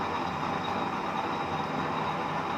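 A used-oil fueled cooking stove burns with a steady, even roar, a constant broadband rushing sound that holds at the same level throughout, with no voices.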